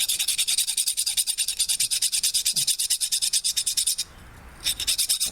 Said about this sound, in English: Go around it like this, just to get off all this little extra rust.